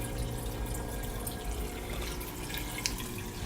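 Water running from a tap to fill a container for aquarium tank maintenance, a steady continuous rushing with faint splashes, even and moderately close, no talking.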